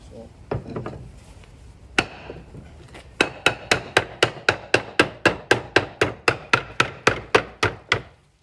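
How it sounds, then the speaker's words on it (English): Hammer blows striking a robust roof slate set in a Scotch slating panel during a roofing demonstration: about eighteen sharp, evenly spaced knocks in a steady rhythm, close and loud, after a few scattered taps and faint voices at the start. "I'm going to actually break a slate within the panel of Scotch slating"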